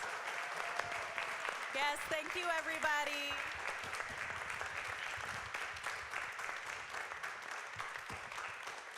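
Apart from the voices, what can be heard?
audience applause for the candidates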